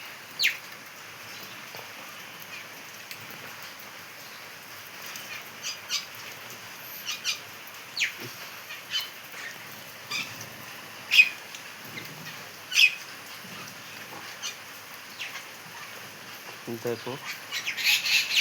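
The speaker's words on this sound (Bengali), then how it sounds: "কত সুন্দর সকালবেলা পাখিরা ডাকছে।" Birds squawk and call in a morning downpour, with scattered sharp calls over a soft steady patter of rain. A person speaks now and then close by, and the calls grow busier toward the end.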